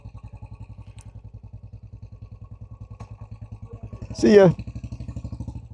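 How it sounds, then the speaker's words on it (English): A used Royal Enfield Classic 350 motorcycle idling nearby, with a slow, even, thumping single-cylinder beat throughout. Someone briefly speaks over it near the end. "A nice little Enfield."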